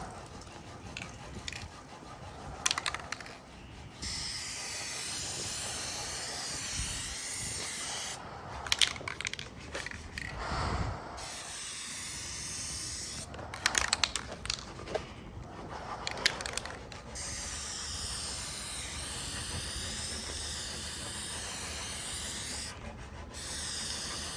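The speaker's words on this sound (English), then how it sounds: "Wait for this wind to pass." Gusty outdoor wind blowing during spray painting of a truck bumper swap on a 1999-2007 Ford F350 Super Duty, a steady broadband rush that swells into stronger buffeting gusts several times without speech.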